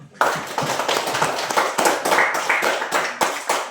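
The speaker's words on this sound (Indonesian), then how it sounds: "Oke, kita tepuk tangan buat Nana." A small audience at an Indonesian church gathering claps together in a steady, ragged burst of handclaps, close and fairly loud, lasting a few seconds with no talk over it.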